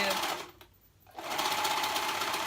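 A sewing machine stitches dress lining pieces together in a fast, steady whir that pauses briefly, then resumes at full speed, close and loud.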